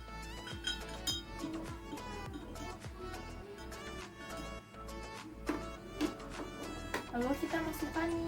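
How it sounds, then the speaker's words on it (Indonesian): A spoon stirs food colouring into water, clinking lightly and irregularly against the container, with music playing steadily underneath. "Kita aduk ya."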